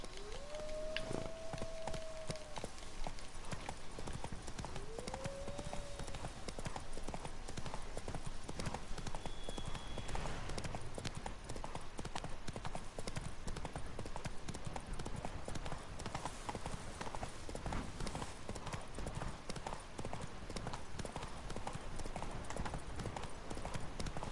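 Roach, the horse from the video game The Witcher 3, galloping with a steady rapid clip-clop of hooves throughout, loud and close, with faint voice-like calls and game ambience underneath.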